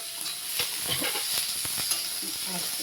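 Fish chorchori frying in oil with garlic and grated ginger, a close, bright sizzle with bursts of stirring and scraping against the pan, steady and fairly loud with no talking.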